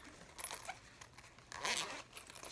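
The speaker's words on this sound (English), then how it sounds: "Zipper." A zipper on a Kipling bag is pulled open in a few quick, close, scratchy strokes, with the longest and loudest pass near the middle of the clip.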